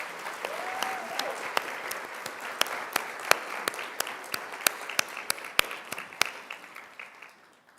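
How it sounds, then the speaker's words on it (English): Crowd applause for two speakers at a girls' leadership event, starting as a thick wash of clapping and thinning to scattered, distinct individual claps that fade out toward the end. "if I can just thank with a massive round of applause Jane and Lamade"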